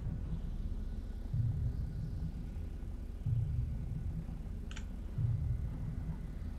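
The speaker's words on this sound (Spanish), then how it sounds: "Escucho el motor del coche." A car engine idles in GTA Online as a low, steady rumble that swells slightly in regular pulses, heard faintly and continuously with a brief small click partway through and no talking.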